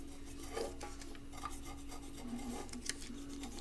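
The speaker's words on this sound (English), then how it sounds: "come in here with our knife and do a little trim" Knife blade dragging and scraping as it trims FEP film around the aluminum edge of a Phrozen Sonic Mini 4K resin printing vat, with soft continuous rasping and a few small ticks over a steady background hum.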